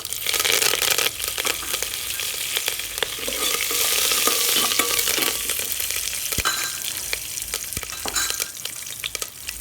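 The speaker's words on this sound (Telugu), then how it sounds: "కరివేపాకు వేసుకుంటున్నానండి ఒక గుప్పెడు." A handful of curry leaves hits hot tempering oil for Andhra pappu charu, giving a loud, continuous crackling sizzle with sharp pops and stirring scrapes throughout.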